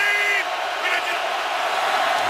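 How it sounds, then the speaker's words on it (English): A loud stadium crowd roars steadily at an NFL football game between the Packers and Seahawks, a dense wash of noise with tonal whoops rising through it. "Again, this loud crowd."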